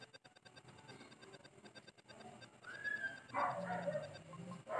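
Small electronic dog barks and yips pop up amid busy game music in the game World Animal, growing a bit louder toward the end.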